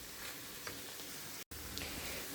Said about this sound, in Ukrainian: я буду обсмажувати гриби ще приблизно 7-8 хвилин